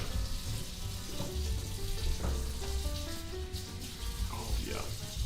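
Breadcrumbs fry in a hot pan with a steady crackling sizzle at close range, punctuated by brief scraping and stirring, while people talk over it.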